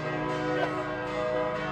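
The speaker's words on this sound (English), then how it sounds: "You might wonder why the bells are ringing so heartily today" Heavy church bells ring out from the medieval cathedral bell tower in Koper, Slovenia, one of them cast around 1333, with a dense, continuous metallic clangor and sustained overlapping tones throughout.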